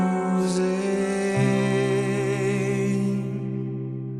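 Sustained chord progression in C Lydian, moving to a sharp 4 diminished chord around the middle, with rich harmonic tones ringing steadily alone before slowly fading.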